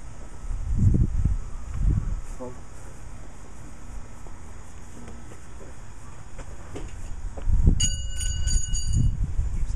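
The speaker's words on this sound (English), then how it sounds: "Ring the bell." A wrestling ring bell is struck at a live UIW event, ringing out in a quick series of bright metallic clangs near the end, after stretches of crowd noise and arena murmur.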